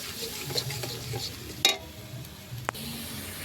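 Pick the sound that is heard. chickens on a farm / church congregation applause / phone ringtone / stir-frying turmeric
stir-frying turmeric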